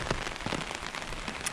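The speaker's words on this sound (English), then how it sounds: "So right now it's raining." Monsoon rain in Thailand falls steadily on surfaces around a property, a dense, continuous patter of drops heard close and even throughout, with no voices.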